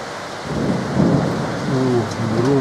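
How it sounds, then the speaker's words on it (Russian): Thunder rumbles low and rolling through a heavy summer downpour in Minsk, the rain hissing steadily while the thunder swells and fades over a couple of seconds, fairly close and loud. "О, гром."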